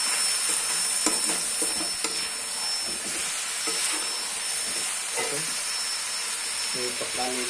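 A coriander and chili mixture stirred and frying in a pan, with a steady sizzle and hiss and repeated scraping stirs throughout.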